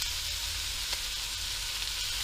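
Pork with onions and mushrooms sizzles in a pan, a steady, close crackling hiss that holds evenly throughout with no talking.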